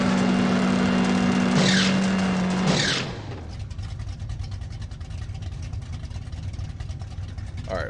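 A burnout from an S10 drag truck with big tires and a huge blower in No Limit Drag Racing 2: a loud, sustained engine roar with a high tire squeal, fading about three seconds in to a steadier, quieter rumble and hiss.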